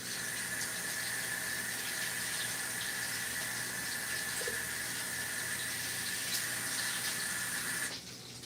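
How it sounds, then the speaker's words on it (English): Tap water runs steadily into a kitchen bowl being filled to crisp lettuce, a continuous hissing rush that holds evenly before cutting off near the end. "fill this bowl full of water"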